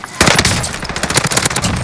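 Rapid automatic gunfire in a video game, loud and close, bursts of shots rattling on nearly continuously for about two seconds with short gaps, starting after a brief quiet moment.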